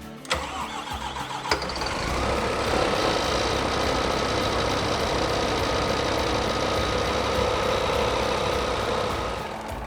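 A brand-new Scania truck engine cranks and catches, then settles into a steady, close idle with a continuous rumble and hum.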